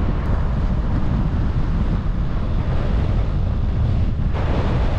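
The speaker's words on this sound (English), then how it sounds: "I've got a headwind." Steady, loud wind roar buffets the microphone throughout while cycling into a headwind on a Sunday morning road ride south of Grantham, with no talking.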